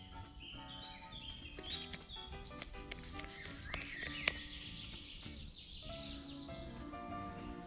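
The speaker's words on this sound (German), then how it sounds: "Hört ihr den Specht?" A woodpecker in a forest, its tapping heard as a scatter of short knocks among steady birdsong and chirps, with one sharp, loud strike standing out midway.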